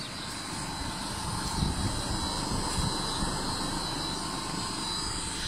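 A 20 HP solar-powered tubewell motor runs steadily, giving a constant low mechanical drone with a broad hum that stays even and moderately loud for the whole stretch, with no voices.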